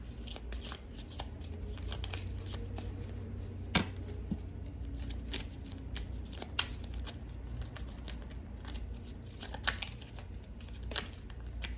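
Tarot cards are shuffled with steady, crisp riffling and flicking, plus a few sharper snaps as cards slip loose, close and moderately quiet throughout.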